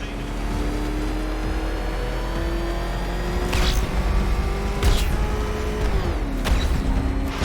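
The Batmobile's engine in Batman Arkham Knight drones steadily with a rising pitch, then drops as gears shift, with intermittent loud bursts over a continuous, close, powerful roar.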